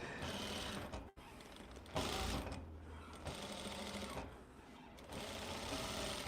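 A sewing machine stitches through a flannel patchwork t-shirt, a steady close mechanical whir that cuts out briefly and restarts several times.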